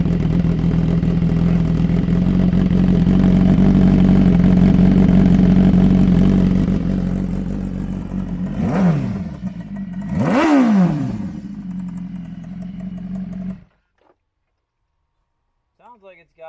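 A sport motorcycle fitted with an SC Project CRT exhaust idles with a loud, low burble, then blips the throttle twice in sharp, rising-and-falling revs before the engine cuts to silence.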